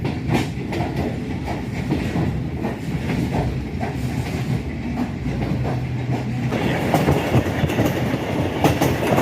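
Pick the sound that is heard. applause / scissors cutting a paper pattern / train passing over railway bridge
train passing over railway bridge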